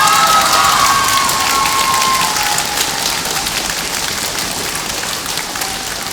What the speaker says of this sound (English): So I just want to give a huge round of applause to Mr. Sartin as well as the entire like music community at Hopkins.